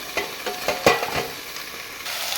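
Vegetables hit hot oil tempered with black mustard seeds and sizzle loudly, with several sharp stirring scrapes and spatters over a steady frying hiss and no one speaking.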